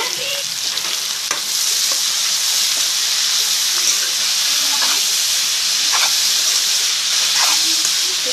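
Ivy gourds and onions frying in hot oil give a steady, close, broad sizzle and hiss with occasional soft stirring scrapes, continuous throughout without talk.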